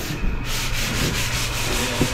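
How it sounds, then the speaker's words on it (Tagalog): Steady abrasive sanding on a house under construction, a continuous rough rubbing scrape running throughout at close range with no talking. "So ayun mga boss, liliha na sila."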